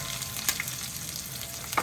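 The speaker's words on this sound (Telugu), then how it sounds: "చూడండి మంచిగా ఫ్రై అయిపోయింది కదా" Crushed garlic frying in oil in a pan with curry leaves, a steady close sizzle and crackle with a couple of sharper pops, no talking.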